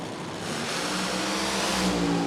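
A nitro drag racing car engine roars loud and close, a dense, steady blast of noise with no pauses or voices.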